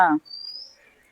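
A nightingale calls in a home garden: a thin, high whistled note, then softer chirps, fairly close. A brief burst of voice opens it.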